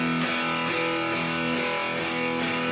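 Distorted electric guitar plays the steady verse rhythm of a song, with evenly counted chugs and a sustained, effects-heavy tone throughout.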